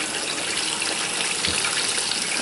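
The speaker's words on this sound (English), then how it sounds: "Then I'm just going to dunk them into the cold water." Tomatoes being dunked into cold water while blanching give a steady, broad gushing, sloshing wash of water, close and continuous for the whole moment with no talk.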